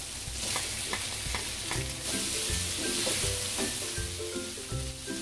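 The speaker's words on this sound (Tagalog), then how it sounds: "Patuloy itong igigisa hanggang sa medyo brownish na ang kulay ng bawang." Garlic, hot chili and white onion sautéing in oil for Filipino-style callos, a close sizzle under repeated rhythmic knocks and scrapes of a spatula against the pan, with no talking.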